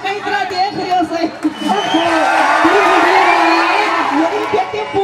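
An audience at a Haryanvi comedy show claps and cheers, a loud sustained burst of crowd noise and whoops swelling over a voice speaking.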